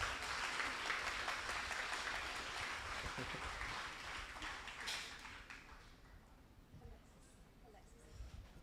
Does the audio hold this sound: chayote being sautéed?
no